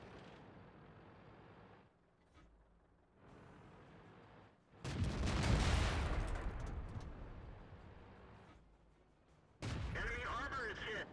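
Tank guns fire in a World of Tanks game as a few heavy booms with rumbling decay, mixed with game effects and background engine noise, and a voice is heard in places.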